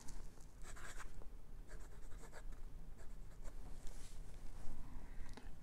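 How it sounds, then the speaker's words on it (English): Sailor 1911 Large fountain pen with a 21 karat gold medium-fine nib writing on paper, quiet scratchy strokes in short bursts with brief pauses between them, close and with no one talking. "So I'm going to try my birthday pen on this birthday paper."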